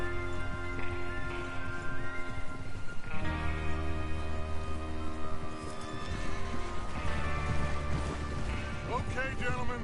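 A horse whinnies loudly in the game Red Dead Redemption 2, with hoof clatter and another neigh later, over a music score and game sound effects.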